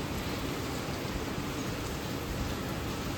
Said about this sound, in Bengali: এখন অতটা বৃষ্টি পড়ছে না কিন্তু তবুও পড়ছে